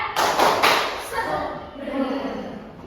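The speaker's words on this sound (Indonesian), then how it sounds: "Kita berdiri dulu yuk. Tepuk soda." Classroom of students standing up to do the rhythmic 'tepuk soda' clapping chant, with a burst of loud, fairly near claps mixed with voices chanting along, then fading into chatter.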